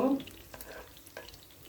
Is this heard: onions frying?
yes